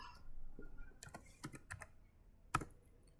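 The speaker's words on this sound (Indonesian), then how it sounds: "Jadi kita masuk ke CMD, terus ketik IP" Typing the ipconfig command on a laptop keyboard: a few sparse, crisp key clicks close to the mic, ending with one firmer strike, set against a quiet room.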